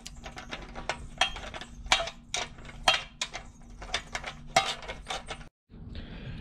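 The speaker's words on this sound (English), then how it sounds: "let me tighten this motor mount down" Bolts on the motor mount of a Predator 212 engine on a Coleman CC100X are tightened with a ratchet, a close, rapid series of metallic clicks in bursts, with a short silent gap near the end.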